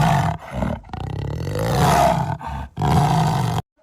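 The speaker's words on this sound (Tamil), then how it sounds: "கருஞ்சிறுத்தையோட சத்தம் இந்த மாதிரி தான் இருக்கும்." Black panther giving a loud, close, throaty roar that swells into a long growling snarl, broken by a couple of short pauses, then cutting off abruptly with no voices present.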